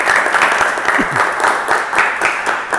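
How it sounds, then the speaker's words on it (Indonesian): A group claps in quick, rhythmic bursts at an automotive engineering performance-test session, loud and close. The clapping comes in rough waves, and a brief voice sounds partway through. "Nah, tepuk tangan buat kita semua."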